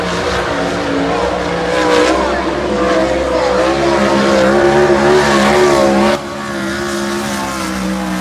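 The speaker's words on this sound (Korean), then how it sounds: "갑자기 차량 소리가 요란해서 좀 놀라셨죠?" Race car with its starter motor removed, push-started on a track: a loud, close engine roar with rising and falling revs and a sharp tonal whine, dropping slightly near the end, with faint talk underneath.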